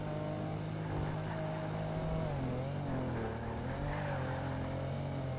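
Race car engine droning steadily in Project Gotham Racing 2 during an online multiplayer race on a main straight, pitch rising and falling with gear changes, continuous and close throughout with no talk.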